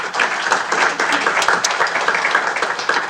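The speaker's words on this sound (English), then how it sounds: "A quick round of applause for our panel" Audience applause for a political conference panel, a steady dense round of clapping from a sizeable crowd that holds at an even level throughout with no talk over it.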